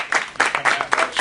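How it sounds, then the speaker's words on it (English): Audience applause after a guest is introduced at an evening music-magazine event, with several bursts of clapping over just over a second, moderately loud and close. "I think we get a round of applause for Alex, everybody."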